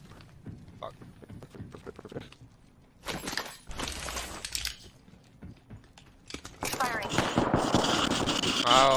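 Bursts of gunfire in the Apex Legends video game crackle in scattered clusters, rapid and fairly close, mixed with other game effects and players' voices talking over the action.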